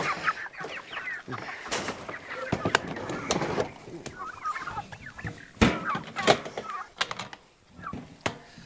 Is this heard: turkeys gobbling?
yes